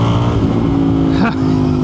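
An Indian FTR 1200 motorcycle pulls hard from 40 to 80, its engine a loud close roar with rising harmonic tones and a brief dip near the end, with a voice over it.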